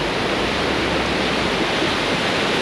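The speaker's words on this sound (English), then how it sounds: "What a cool waterfall!" A powerful waterfall in Bali roaring as a dense, steady wash of water noise, loud and close, with no break over a few seconds.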